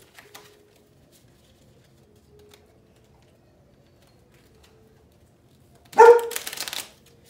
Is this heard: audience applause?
no